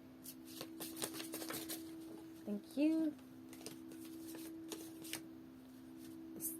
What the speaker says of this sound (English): Maybe I'm just not shuffling properly